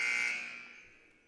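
A buzzer sounds once at a Texas high school basketball game in an arena, a single loud sustained electronic tone that fades away over about a second with no talk over it.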